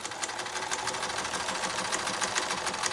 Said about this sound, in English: So I'm going to sew right here and right here, leaving this open.